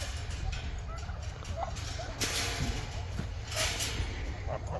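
Turkeys gobble repeatedly outdoors while grazing grass in a fenced grazing enclosure on a small farm with ducks, several bursts of gobbling at moderate distance over steady background noise.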